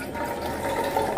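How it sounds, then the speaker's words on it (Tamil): Water pours into a pot in a short, steady splashing stream, close by and fairly soft. "இதுக்கு எவ்வளோ தண்ணி ஊற்றுறேன்னு பார்த்தீங்கன்னா"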